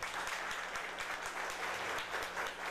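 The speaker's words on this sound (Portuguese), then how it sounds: "Diácono Ellison, nossa salva de palmas a ele." A congregation applauds the newly ordained deacon at a diaconal ordination in church, with steady, continuous clapping from many hands heard at moderate distance.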